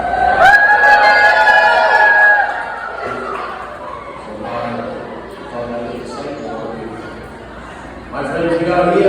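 A live audience at a Medieval Times dinner show cheers and shouts in unison, a loud crowd roar rising over a lead voice's call and then trailing into chatter and laughter, with another burst of voices near the end.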